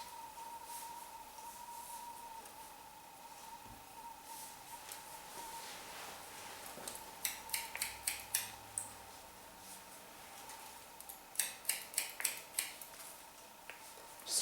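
Scissors snip through long hair in two quick bursts of several close, crisp cuts, over a faint steady hum in a quiet salon room.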